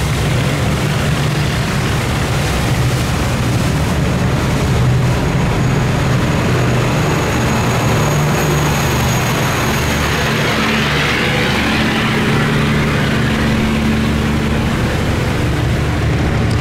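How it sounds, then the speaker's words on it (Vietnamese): A steady, loud engine drone of a floating barge rumbles continuously with low throbbing tones, close by on a river canal, with no voices. "Đây là một chiếc xà lan nổi các bạn."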